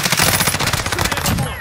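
Rapid automatic gunfire in a shooter video game, a dense burst of close, loud shots repeating quickly over the full moment with no pause.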